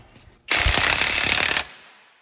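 A power impact tool loosens the front axle nut on a Chevy Traverse in a garage, one loud, close burst of rapid hammering lasting about a second.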